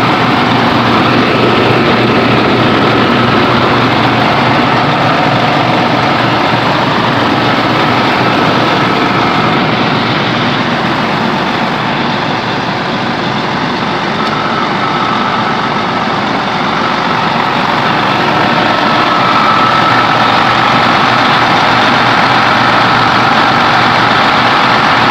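Idling engine of a 1995 MCI DL3 coach bus, a steady, even diesel rumble held at constant loudness throughout, close by with no talk.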